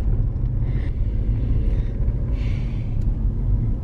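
Steady low rumble of a car driving along a road, continuous road and engine noise with faint wind, no voices.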